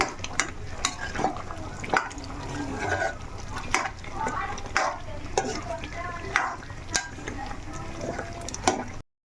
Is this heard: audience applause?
no